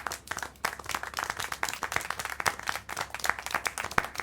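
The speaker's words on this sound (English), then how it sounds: "How can you clap? Oh, so you like the noise, do you?" In the Syberia: The World Before video game, a small group claps in applause, with dense, uneven, moderately loud hand claps running steadily for several seconds.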